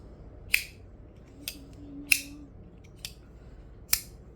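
Five sharp metallic snaps spaced about a second apart, crisp and close, as a titanium thumbstud folding knife is flicked open and snapped shut repeatedly.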